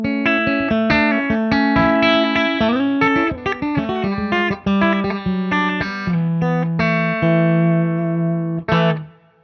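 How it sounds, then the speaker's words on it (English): An electric guitar running through a Wampler Totally Buffed buffer pedal switched off plays a clean melodic phrase of single notes and short runs, loud and close, ending with a final plucked note that rings out and fades. "Here's the sound of that buffer when the pedal's off."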